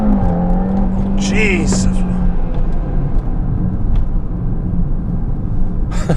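A tuned 2018 Audi RS3 with an APR Stage 1 tune on E85 accelerating hard at full throttle, a loud sustained engine roar heard from inside the car, with a brief voice exclaiming near the start.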